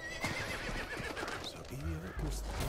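A horse neighs and its hooves clip-clop in Diablo IV, the whinny rising over game ambience and a speaking voice, with soft hoof thuds underneath across the short stretch.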